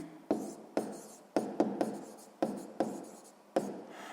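Pen or pencil writing numbers in a notebook during a sixth-grade maths exercise, a series of close, soft scratchy strokes each starting with a sharp tap, about eight in four seconds, heard alone without talk.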